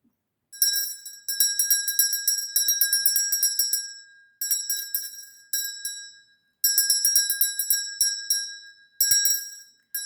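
A desk bell rings in rapid bursts of quick metallic dings, about four clusters separated by short pauses, bright and close with no talking.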